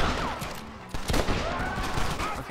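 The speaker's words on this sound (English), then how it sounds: "It's hard to leave the army to you when everyone's shooting at me" Dense bursts of enemy gunfire in the video game Red Dead Redemption crackle in rapid, overlapping volleys, with voices talking over the shooting.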